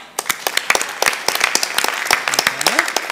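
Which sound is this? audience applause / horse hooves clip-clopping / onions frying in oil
audience applause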